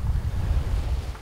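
Stormy Atlantic seas roar during the Talisker Whisky Atlantic Challenge 2013 rowing race, with heavy wind buffeting the microphone and a dense, continuous low rush of waves, loud and close.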